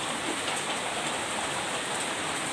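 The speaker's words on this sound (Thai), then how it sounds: "บรรยากาศฝนตก" Steady rain falls at home in a rural setting, a dense, even hiss of drops on surfaces running unbroken from start to finish with no voices.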